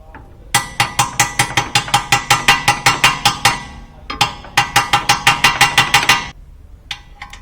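A ratchet with an M14 triple square bit is cranked on rusty rear brake bracket bolts of a 2011 VW Golf: two close, loud runs of rapid metallic clicks, a short pause between them, then a few final clicks.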